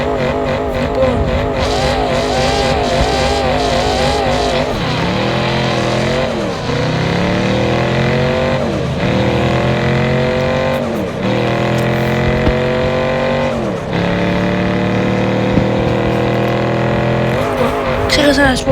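Car engines in a drag race in the video game Car Parking, loud and continuous, with repeated rising revs that drop at each gear shift and occasional tire squeal, under a speaking voice.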